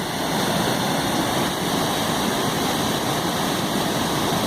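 A river rushes down a canyon at Gudbrandsjuvet waterfall in Norway, a steady, dense, loud roar of water that holds even throughout, with no voices.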